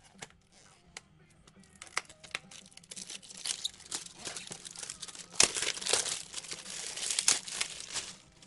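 Cellophane wrapper on a 2019 Steele Engravings Historic Autographs trading card pack crinkles and crackles in close, irregular bursts as the pack is opened. The crinkling grows louder and busier toward the end.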